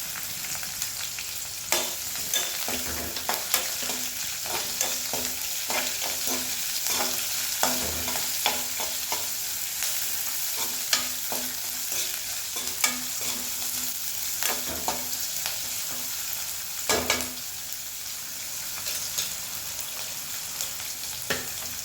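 Onion and ginger fry in hot oil for poori masala, making a continuous close sizzle broken by frequent stirring scrapes and clacks of a spoon against the pan.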